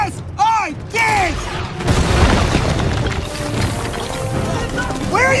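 Airstrike explosion in a video game, a heavy crashing boom that swells into a long rumbling roar, with warbling electronic sweeps before and after it and voices faintly under the din.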